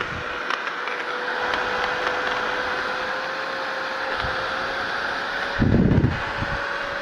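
A repaired heavy-duty grinder motor runs steadily with a constant whirring hum and a fixed tone throughout, and a brief low thump comes near the end.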